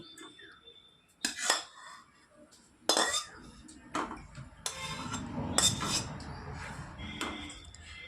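Metal utensils scrape and clink against a plate as fried eggplant for a mustard eggplant dish is transferred onto it. A few sharp, close knocks are followed by rougher scraping, with no talking.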